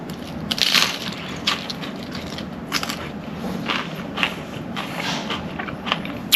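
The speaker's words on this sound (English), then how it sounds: "I took a few bites for the camera and listened to that crunch" Crisp tostadas topped with fajita filling and garlic yogurt sauce are bitten and chewed, giving repeated close, crackling crunches over several seconds with no talking.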